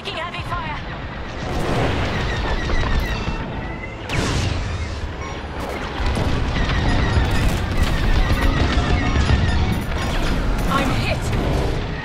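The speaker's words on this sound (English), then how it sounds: "Taking heavy fire!" Starfighter weapons fire and explosions in the Star Wars Squadrons game, dense bursts of blasts and booms in a loud continuous battle din, with sharp impacts near the start and middle.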